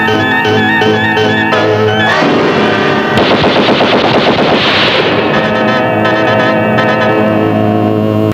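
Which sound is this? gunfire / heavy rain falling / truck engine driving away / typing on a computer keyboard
gunfire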